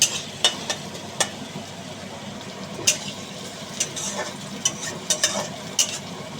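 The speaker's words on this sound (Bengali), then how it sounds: "তেলটা গরম হয়ে গেছে, এর মধ্যে আমি দিয়ে দিচ্ছি পেঁয়াজ কুচি। এটাকে নাড়িয়ে নেবো" Chopped onions sizzle softly in hot oil, with sharp scraping clicks of a spatula stirring at irregular intervals.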